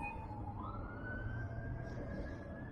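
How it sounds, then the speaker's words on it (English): Emergency vehicle siren wailing in the distance over steady low road rumble, a rising and sustained tone heard while a metal detector is tested outdoors. "For those of you that didn't hear it over the sirens."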